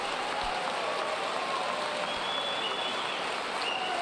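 A crowd applauds steadily, a dense wash of clapping that holds at an even level throughout.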